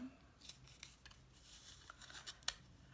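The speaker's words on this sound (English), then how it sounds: "And snip the under part of it." Scissors make a series of quiet, close snips through paper while trimming a Halloween treat bag, several crisp cuts in quick irregular succession over a soft background hum.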